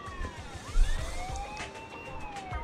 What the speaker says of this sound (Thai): ทำไมมีรถตำรวจ